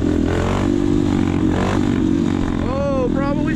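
A Honda Grom motorcycle being ridden around town, its small engine droning and revving up close, with clattering and a brief voice.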